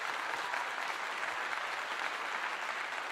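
A crowd applauds steadily around a pre-game football segment for Colorado against Kansas, a dense, even roar of clapping that holds at the same level throughout, with no voices standing out.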